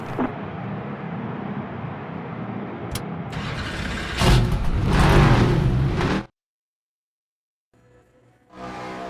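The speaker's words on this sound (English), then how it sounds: "Drivers, start your engines!" Race car engines crank and fire up in the NASCAR 25 video game, a rising roar that swells louder and harsher, cuts abruptly to silence, then returns as another burst of engine noise.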